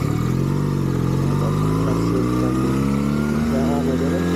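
A Regal Raptor Cafe Racer 125, a twin-cylinder 125cc motorcycle, rides and makes a turn with its engine humming and shifting pitch up close. Steady wind and road noise run underneath.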